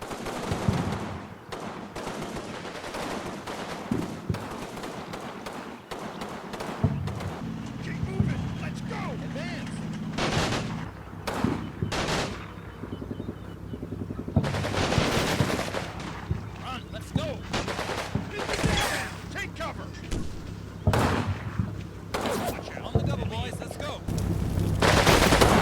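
Gunfire in the WWII strategy game Combat Mission Fortress Italy, a churchyard and foxhole fight, comes as scattered machine-gun bursts and sharp single shots, some loud and some distant, while someone narrates over much of it.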